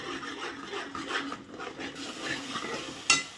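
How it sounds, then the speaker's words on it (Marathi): Onion-coconut masala for Satara-style mutton roasting in oil in a pan, stirred with a steady scraping and rubbing of the spoon against the pan over a soft sizzle, ending with a light clink. "तेल सुटेपर्यंत मसाला व्यवस्थित असा भाजून घ्यायचा आहे"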